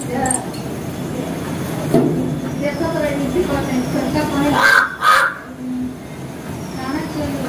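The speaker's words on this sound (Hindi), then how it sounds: "कौवा बोल रहा है, कौवा बोलता है तो शुभ होता है।" Crow cawing outdoors in a village setting, a few harsh calls rising over steady background noise, with a louder burst of calls near the end and faint talk in the background.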